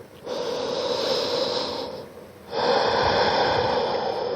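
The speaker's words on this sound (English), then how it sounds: "One more breath here." Two long, deep breaths during a gentle summer yoga flow, each a steady airy inhale or exhale lasting nearly two seconds, close and fairly loud with a short pause between and no talking.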